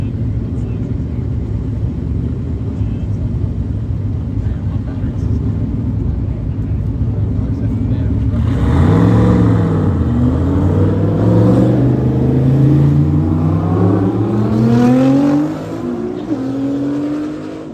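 A small-block Ford V8 street car revs hard at a street takeover in Alabama, a steady loud engine drone giving way to rising and falling revs, with crowd talk and shouting mixed in.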